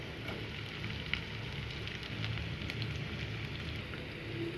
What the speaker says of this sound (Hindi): प्याज की खाली लेयर्स सेपरेट होने तक हमने पकाया है।